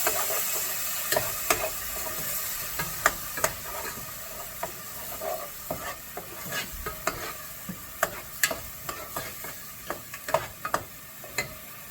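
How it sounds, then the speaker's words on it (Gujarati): Onion and tomato puree hits a hot pan for a punjabi chole masala, sizzling and frying steadily while a spoon stirs with irregular clinks and scrapes, close and moderately loud. "ઓનિયનની પ્યુરી બનાવી હતી તે એડ કરીશું। અને તેને હલાવીશું।"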